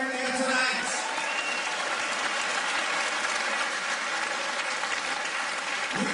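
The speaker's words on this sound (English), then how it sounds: "a big round of applause for both fighters in the ring here tonight" A fight-night crowd at a ringside kickboxing event applauds both fighters in the ring, a loud, dense roar of clapping from a large arena audience that sustains evenly, with a brief voice at the start.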